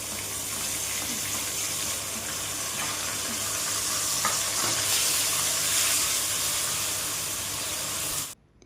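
Masala paste for an Andhra-style fish curry fries in hot oil in a pan, giving a loud, continuous sizzling hiss close up that runs unbroken for about eight seconds.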